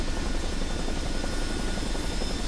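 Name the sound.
CH-47D Chinook helicopter rotors in MSFS 2024 video game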